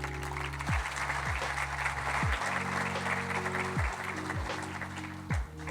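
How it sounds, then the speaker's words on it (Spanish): An audience applauds at a civic event in Lomas de Zamora, Argentina, a steady wash of clapping layered over a low droning tone that shifts pitch several times. "Un aplauso para ellos, por favor."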